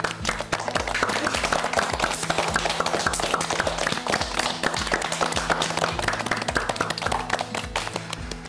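A studio audience at a game show claps for the contestants, producing dense, steady rhythmic applause that continues without a break, loud and close, over a low musical hum.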